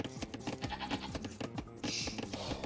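Sheep in the strategy game Age of Empires II bleat in a quick series of short, wavering cries over faint game ambience.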